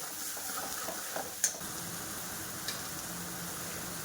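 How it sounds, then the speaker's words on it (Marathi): Masala frying in hot oil for dhaba-style shev bhaji, a steady close sizzle with light stirring scrapes and one or two sharp clinks of a spoon against the pan. "तेलामध्ये छानपैकी आपल्याला फ्राय करून घ्यायचं आहे. छानपैकी खरपूस भाजून घ्यायचं आहे."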